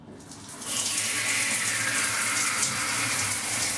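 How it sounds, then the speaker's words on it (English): Shower water starts running and then hisses steadily, a loud, close, continuous spray with no talk. "let's get the shower running."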